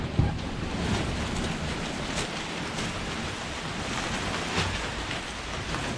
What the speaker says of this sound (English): The wind is blowing in from all directions,